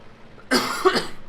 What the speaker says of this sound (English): just coughing away from the microphone there